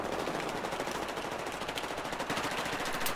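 Rapid automatic gunfire from a multiplayer shooter video game, a dense, continuous burst of loud shots across the whole stretch with no pauses.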